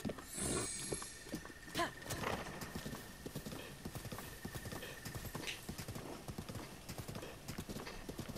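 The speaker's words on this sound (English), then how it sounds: "This horse is very uneasy." Horse hooves clip-clop steadily and close in the video game The Legend of Zelda: Breath of the Wild, a rhythmic stream of hoof beats with a brief whinny early on.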